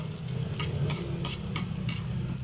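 Chili goes into a frying pan of adobong kangkong (water spinach), bringing a loud steady sizzle broken by several sharp stirring scrapes spaced evenly, close and without talk.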